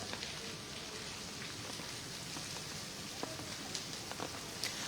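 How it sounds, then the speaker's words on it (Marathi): Heavy rain falling in Kolhapur, a faint, steady wash of rainfall with scattered drop ticks, distant and continuous with no voices. "गेली 4 ते 5 दिवस कोल्हापुरामध्ये मुसळधार पाऊस पडतोय"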